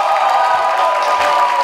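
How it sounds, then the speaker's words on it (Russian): Audience applause and cheering at a KVN comedy league contest as a second-place team is announced, a loud, steady wash of clapping with scattered whoops from a large crowd. "Аплодисменты, второе место."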